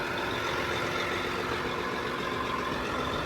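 A farm tractor hitched to a Lemken Rubin disk harrow idles with a constant, even engine drone, heard close and unchanging with no talk over it.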